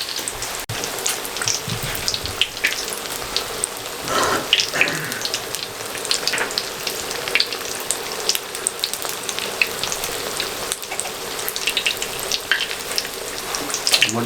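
Chicken macaroni samosas deep fry in hot oil with a dense, steady sizzle and crackle, close and even throughout, with no voices.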